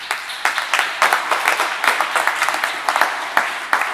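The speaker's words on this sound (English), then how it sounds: "Please join me in giving Blake a round of applause," A political candidate forum audience gives a round of applause: steady, dense clapping from many hands, fairly loud and close, with no speech.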